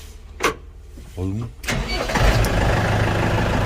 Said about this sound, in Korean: 시동 걸어놔봐, 시동 걸어놔봐